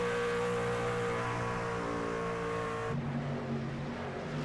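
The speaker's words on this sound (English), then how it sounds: "the roar of that engine there" A race car engine roars loudly and steadily at high revs, then the pitch drops suddenly as the note shifts, an unbroken close mechanical drone throughout with no talk.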